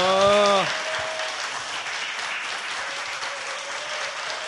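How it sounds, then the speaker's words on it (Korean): Applause breaks out at a live talk-show taping in Korea, a dense wash of many hands clapping steadily throughout, with a brief sung or hummed tone at the start and faint voices beneath. "야, 박수."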